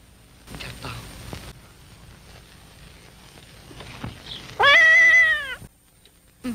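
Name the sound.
cat meowing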